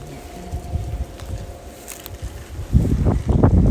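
Gusty, cold wind buffets the microphone in a cabbage garden with low rumbling bursts, growing stronger and louder toward the end.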